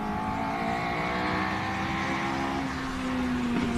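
A Birkin 1600 competition car engine is loud and close at a hill climb, holding a steady high rasping drone throughout.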